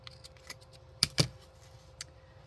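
Scissors trim the edge of a paper journal page. Two crisp, close snips land near the middle, with faint paper rustles and a lighter click afterward, and no one speaks.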